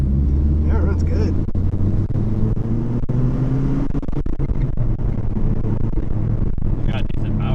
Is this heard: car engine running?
yes